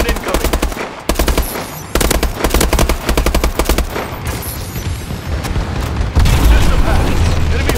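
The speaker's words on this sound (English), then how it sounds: "Friendly bombing run incoming." Call of Duty: Advanced Warfare bombing run, loud rapid machine-gun bursts and heavy explosions rolling together in a dense, continuous barrage.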